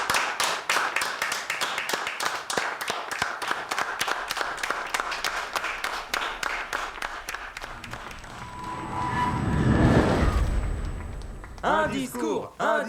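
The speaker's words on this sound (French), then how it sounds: "Applaudissez le capitaine." Clapping for a captain at a rowdy gathering, dense and steady for several seconds, then a louder swell of crowd noise and shouting voices near the end.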